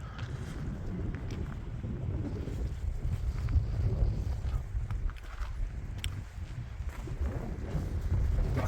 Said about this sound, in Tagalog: Lakas ng hangin, lamig dito.